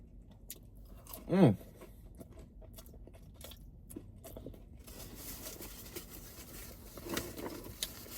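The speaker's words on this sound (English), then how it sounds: "Delicious egg roll. I'm finishing it right now." Close chewing and crunching on a crispy egg roll from a Chinese food meal, with irregular bites and mouth sounds, one brief rising tonal noise early on, and a louder stretch of munching near the end.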